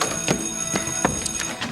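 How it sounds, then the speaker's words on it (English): A school bell rings in a series of short, sharp metallic strikes at an uneven pace, fairly loud and clear with no talking over it. "that was the second bell"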